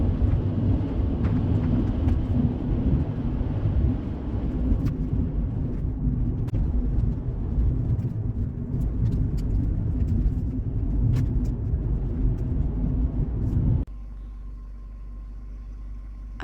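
A car drives down a small-town road, heard as a loud, continuous low rumble of engine and tires from inside the cabin, which cuts to a quieter steady hum near the end.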